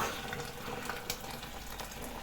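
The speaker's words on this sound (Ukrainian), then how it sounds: "беремо рушничок і відправляємо туди кипяток" Boiling water poured from a kettle onto a folded towel, a soft steady splashing hiss that runs unbroken and fairly quiet throughout, with no voices.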